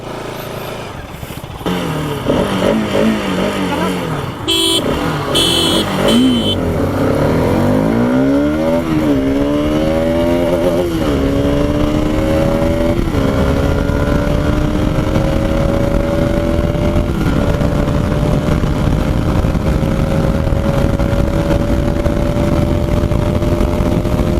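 A Bajaj Pulsar RS 200 motorcycle roars through a drag race on a road, its engine revving hard and climbing through the gears. It stays loud and close for the whole run, with a few brief voices near the start.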